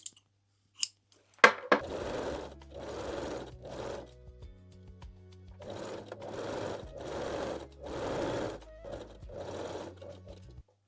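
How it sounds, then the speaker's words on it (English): A sewing machine sews picot elastic onto a lace bralette after a few sharp clicks, running in several short bursts with brief pauses between them, close and moderately loud with no talking. "You can gently stretch the elastic while sewing."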